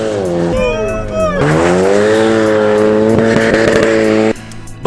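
A Hyundai Veloster drifts in snow, its engine revving loud and close with rising and falling pitch and tires squealing, before the noise cuts off abruptly near the end.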